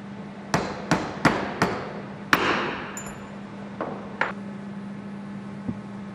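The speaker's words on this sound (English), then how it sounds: "A mandrel can be used to ease the mounting of the bearing." Sharp metallic taps from a mandrel seating a turbine shaft bearing into the cone of a TJ20G engine, several close, clear knocks in quick succession, then a few sparser ones over a steady low hum.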